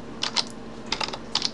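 Typing on a computer keyboard to enter a search query in Google image search: three quick bursts of key clicks, close and fairly soft, with no talking.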